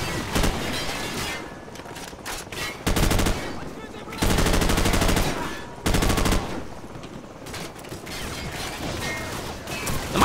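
Bursts of automatic gunfire from Call of Duty 4: Modern Warfare, three loud sustained volleys of rapid shots with short breaks between them, set against quieter game ambience and scattered single reports.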